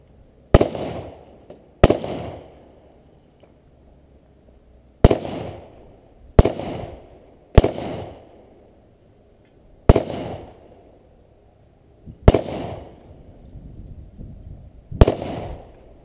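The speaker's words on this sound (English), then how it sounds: "Definitely nicer shooting the handgun than the shotgun" Handgun and shotgun shots ring out outdoors, about nine sharp, loud bangs at irregular intervals, each trailing off in a short echo.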